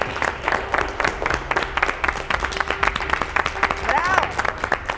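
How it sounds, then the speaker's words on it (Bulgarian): A studio audience claps steadily at the season finale of the Bulgarian TV competition show Maximal REVENGE 2022, with a host's voice speaking loudly over the applause throughout. "Аплодисменти! Браво!"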